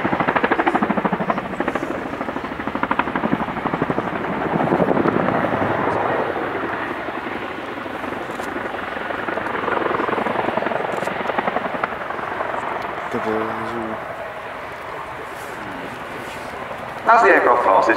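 A Royal Air Force CH-47 Chinook helicopter's heavy rotor thrum and engine roar fill the scene, loud and steady as it flies sideways past at an air show, with a crowd murmuring faintly underneath.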